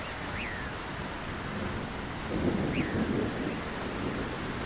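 Steady rainfall hisses throughout while a low rumble of thunder rolls in partway through; a couple of faint rising chirps sit above it.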